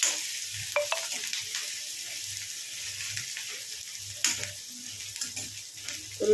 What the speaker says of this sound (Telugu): ఇప్పుడే ఉల్లిపాయలు, పచ్చిమిర్చి ముక్కలు అయితే మంచిగా వేయించుకోండి.